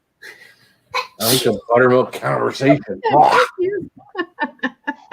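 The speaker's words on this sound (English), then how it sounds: "You didn't sneeze into your elbow." One sharp sneeze bursts out near the start, followed by a person talking and a few short laughs.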